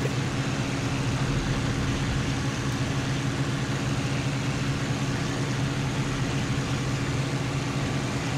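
A steady, droning Spitfire aircraft engine, running too hot, in the flight sim IL-2 Cliffs of Dover, runs without pause, a dense constant roar with no variation in rhythm.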